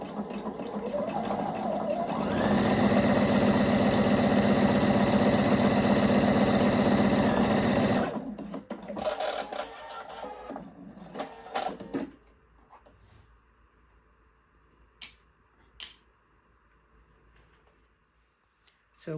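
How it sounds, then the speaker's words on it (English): A sewing machine runs in one steady, fast burst for several seconds while stitching a pinned edge of mesh shorts at a 6mm seam allowance, then stops, leaving faint handling clicks and rustles in a quiet room. "we're going to sew the edge we pinned again with a 6mm seam allowance"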